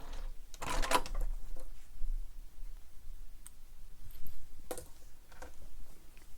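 A domestic sewing machine stitches in reverse for a few stitches over the metal hardware of a bowler bag, giving short bursts of rapid mechanical clicking that stop and start, with quiet pauses between runs.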